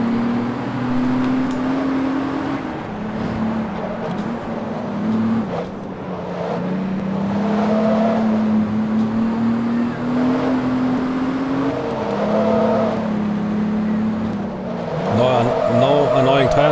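Race car in Forza Motorsport 2, a steady, droning engine note that shifts pitch slightly as it runs, with brief tire screech near the end and a person talking over it.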